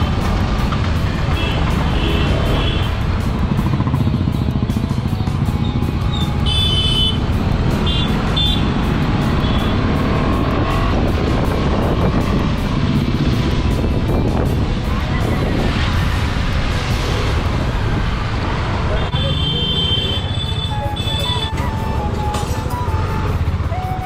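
A KTM Duke 250 BS6 motorcycle exhaust rumbles loudly and continuously up close, its engine note rising and falling with revs, with a few brief higher-pitched tones over the steady roar.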